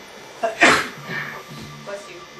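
A single sharp sneeze, close and loud, followed by faint voices murmuring in a room where people are playing an EyeToy game.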